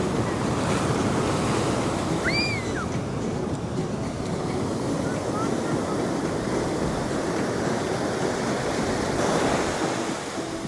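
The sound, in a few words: ocean waves breaking on a beach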